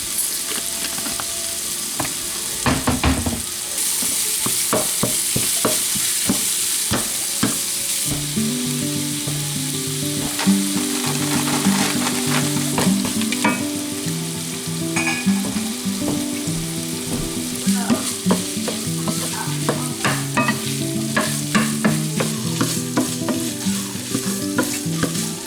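Minced onions frying in a pan, a steady loud sizzle with repeated scraping stirs throughout, close up and continuous with no talking.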